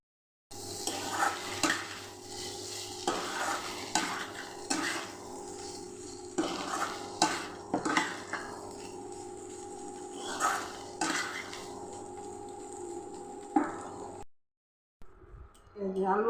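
Paneer being stirred into spices in a pan for paneer kofta, with repeated utensil clinks and scrapes against the metal over a steady background hum, faint sizzling beneath, continuous and close.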